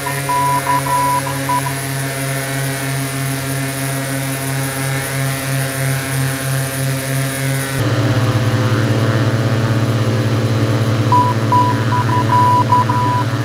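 Beechcraft King Air 350 twin turboprop in Microsoft Flight Simulator 2004, a loud steady propeller drone with pulsing beat, then a change in engine tone partway through, with repeated cockpit alert beeps at the start and end.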